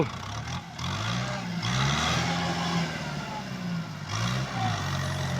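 A Kubota M6240 tractor works a clay rice field with a rotary tiller, its diesel engine droning steadily and close with shifting harmonic pitch as the load changes, rising in a brief surge near the end.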